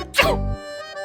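A single loud, close sneeze bursts out indoors in a room with the air conditioner running, then fades into quiet room tone.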